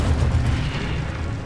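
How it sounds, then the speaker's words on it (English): Incendio fire spell cast in Hogwarts Legacy, a heavy roaring whoosh with a deep rumbling burst at the start that fades slightly while staying loud and full. "Incendio!"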